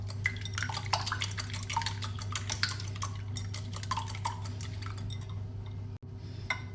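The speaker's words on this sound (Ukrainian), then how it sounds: "Добавляю яйця до печінки." Eggs being added to and stirred into a liver mixture in a bowl, with quick rhythmic clinks and scrapes of a utensil against the bowl over a low steady hum, close and moderately quiet, with no talk.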